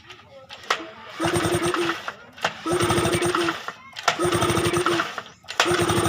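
A Yamaha 15 outboard motor being cranked with its starter in repeated bursts, each a rough rapid churning lasting over a second, separated by short pauses, loud and close.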